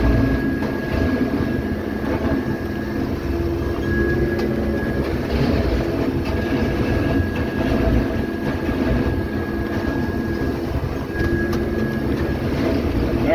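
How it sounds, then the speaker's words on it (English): Steady low rumble of a heavy ballast train rolling along the track nearby, a continuous mechanical drone with a faint high whine running through it. "Now we got the ballast train down there."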